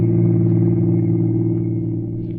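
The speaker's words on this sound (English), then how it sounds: "he was behind the wheel of a car, rolling smoothly along a lonely highway" A car rolls smoothly along a lonely highway at night in an old radio drama, a steady low engine drone holding evenly throughout with no voices.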